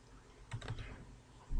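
A computer mouse clicks on an upload button in a spreadsheet accounting program, giving a few quick, light clicks close by, faint against a quiet room.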